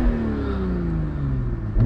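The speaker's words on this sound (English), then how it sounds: "I'm going to shut up for a little bit so you guys can hear the exhaust." A 2023 BMW Z4 M40i with the roof open accelerates hard, its exhaust droning as engine pitch climbs steadily through the rev range, loud and close with wind rush underneath.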